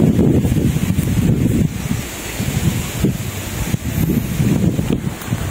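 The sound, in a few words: wind blowing across hillside farm by the river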